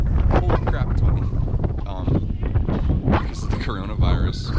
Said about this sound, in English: Holy crap, it's windy.